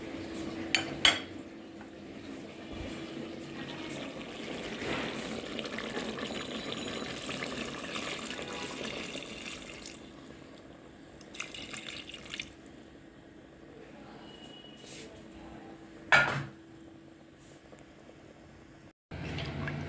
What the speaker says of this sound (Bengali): এখন আমি ঝোলের পানি দিয়ে দিব